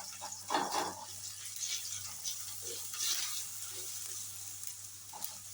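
Garlic paste frying in hot oil in a home kitchen after mustard seeds and chopped chillies, a soft steady crackling sizzle with occasional brief pops, moderately quiet and alone.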